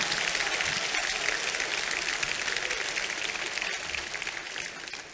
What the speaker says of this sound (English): let's give God a hand clap here today.